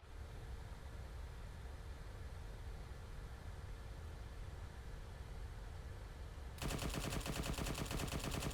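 Side door gunners on a Valkyrie gunship open fire in the ArmA 3 40K mod, a dense rapid burst of heavy automatic fire cutting in loudly near the end over a steady roar of engine and wind noise.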